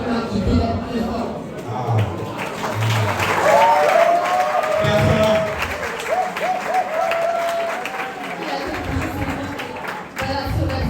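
A crowd applauds steadily and loudly at the 2022 Brazza Best Awards ceremony. The clapping runs throughout, mixed with voices and some tonal sounds, and eases briefly near the end.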